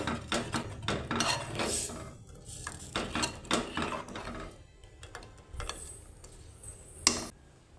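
A metal spoon scrapes and clinks against a pot while ground garlic is mixed into a simmering thin rasam, giving a steady run of close, faint tapping and scraping with no talk.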